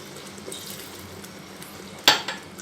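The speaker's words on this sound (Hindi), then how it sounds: "सब्ज़ी के साथ इसमें डाल देते हैं थोड़ा सा पानी" Water poured into vegetables cooking in masala in a pan for a tinday dish: low, steady sizzling, then a sudden short splashing hiss near the end that quickly fades.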